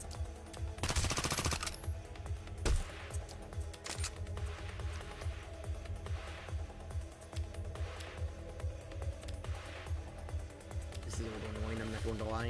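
Automated turrets fire in the tactical game Reverse Collapse: Codename Bakery Girl, a steady clatter of rapid shots with louder bursts near the start, over game music and under a talking voice.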